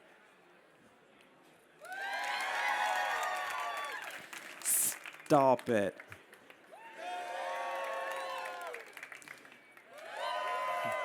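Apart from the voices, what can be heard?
audience clapping and cheering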